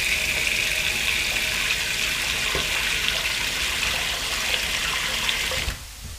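Tap water runs steadily into a pot for boiling noodles, a continuous close hiss and gush lasting several seconds before cutting off near the end.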